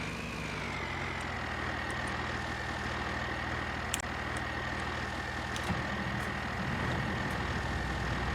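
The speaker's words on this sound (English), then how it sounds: "Alright, and we got this truck running." An old tow truck engine runs at a steady idle, with a constant deep rumble and a droning whine close by and a few faint clicks over it.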